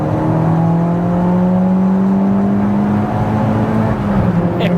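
A 2-litre turbo petrol, all-wheel-drive Seat Ibiza Cupra, engine-swapped to about 350 bhp, revs steadily on an open road, its engine note holding loud and sustained throughout with a slowly rising tone and no talking.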